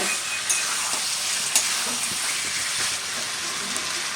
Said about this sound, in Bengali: সুন্দর করে কষে নিচ্ছি